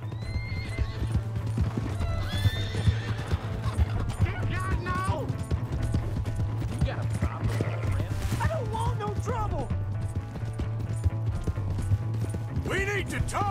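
A horse gallops in the video game Red Dead Redemption 2, with rapid, steady hoofbeats and several loud neighs and whinnies. Characters shout over it and a low drone runs underneath.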